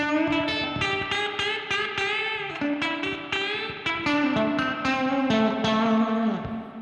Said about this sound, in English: I just love that classic spring reverb, you know?